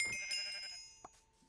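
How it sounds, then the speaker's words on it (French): Sheep bleating in Minecraft, a short wavering bleat up close followed by a fading tail and a soft click, set against quiet game ambience with no talk. "Ah, il y a un mouton, c'est parfait."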